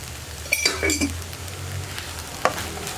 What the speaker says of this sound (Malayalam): ഉപ്പ് കൂടി ചേർത്ത് നന്നായിട്ടൊന്ന് ഇളക്കി മിക്സ് ചെയ്യാം.